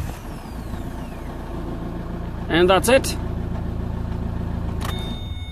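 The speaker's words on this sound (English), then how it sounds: "Car is running, as you can see" A 2007 Vauxhall Vectra with a Z19DT diesel engine runs after an engine swap, a steady low idle hum throughout, with a brief spoken phrase over it partway through.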